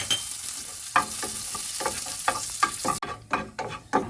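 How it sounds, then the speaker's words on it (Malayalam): Cashews and raisins fry in ghee in a pan, a continuous close sizzle broken by repeated scraping stirs at an irregular rhythm, louder and busier toward the end. "ഇതിലേക്ക് കുറച്ച് അണ്ടിപ്പരിപ്പിട്ട് ഒന്ന് വറുത്ത് കഴിയുമ്പോൾ കിസ്മിസ് ഇടാം."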